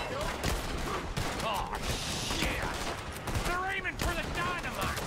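Scattered gunfire erupts in Red Dead Redemption 2 during a train robbery, sharp cracks and volleys layered over clattering mechanical noise and whistling sweeps, with a voice talking briefly over the din.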